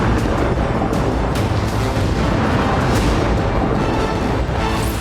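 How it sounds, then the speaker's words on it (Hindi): A landmine blast strikes an Israeli army unit in northern Gaza, heard as a loud, dense roar of booming and rumbling that fills the stretch, with sharp cracks and bursts breaking through. "हमास का दावा है कि उसने उत्तरी गाजा में इजरायली सेना की एक टुकड़ी को लैंडमाइन से उड़ा दिया।"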